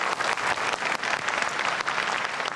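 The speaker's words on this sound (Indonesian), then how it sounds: "Boleh tepuk tangannya?" Supporters in the hall of Indonesia's fifth 2019 presidential and vice-presidential debate clap loudly and continuously, a dense crowd applause filling the whole stretch.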